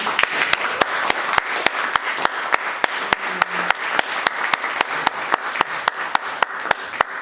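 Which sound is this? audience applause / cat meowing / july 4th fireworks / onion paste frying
audience applause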